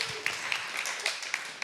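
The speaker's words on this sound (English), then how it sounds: "One more round of applause for everyone" Audience at a small live show's season finale, applauding in a short burst of clapping mixed with crowd noise, with a few sharper claps standing out.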